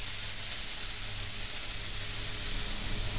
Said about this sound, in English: I can adjust that steam.